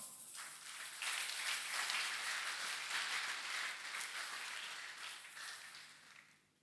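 A church congregation breaks into sustained applause and cheering in acclamation, a dense wash of clapping that holds steady for several seconds before tapering off.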